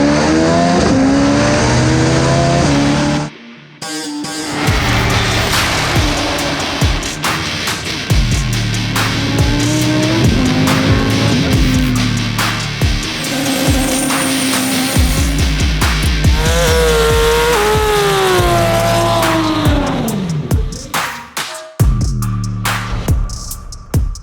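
A Dodge Viper race car driving fast, its loud engine roaring through repeated upshifts and revs from inside the car, with a brief drop near the start and a lift-off near the end.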